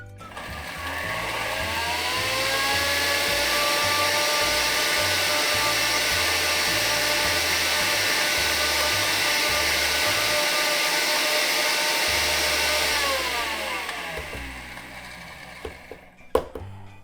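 An electric spice grinder whirring through chai masala, a loud steady motor whine held for about twelve seconds before spinning down, followed by a light knock.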